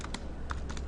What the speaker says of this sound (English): let me go back to my typing here